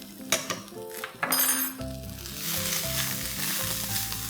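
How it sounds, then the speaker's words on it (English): Valor papdi flat beans with coriander-cumin spice powder being stir-fried on high flame: a loud, continuous sizzle builds after a few clinks and scrapes of a utensil on the pan, close up, with no talk. "We need to toss this on high flame, and this almost kind of gets stir fried for a minute"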